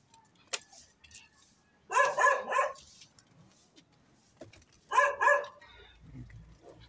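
Shadow, a dog, barks in two short bursts of three or four sharp woofs each, fairly close, separated by a quiet pause with faint background clatter.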